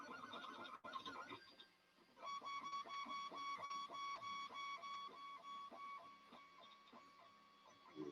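A 3D printer lays down its first layer with a steady whine of stepper motors and rhythmic ticking moves, soft and continuous, with a brief louder clatter at the start.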